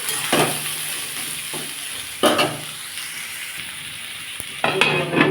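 Potato and pointed gourd sizzle steadily as they fry with a little salt in a pan, while a spatula scrapes and stirs in three louder close bursts over the constant frying hiss.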